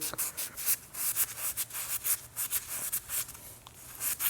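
Scotch-Brite pad scrubbing a surface clean by hand, a quick series of rhythmic rasping rubs, close and moderately quiet, with no speech.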